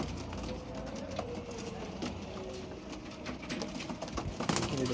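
Domestic pigeons, including young kaldama birds, cooing softly inside a home loft among scattered clicks and rustles, fairly low in level with some background noise.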